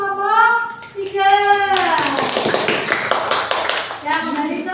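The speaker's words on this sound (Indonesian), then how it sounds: "Dan sekarang tepuk tangan untuk kelompok 3" A classroom of children claps for a group in unison, a burst of brisk hand claps between stretches of a voice and children's chatter.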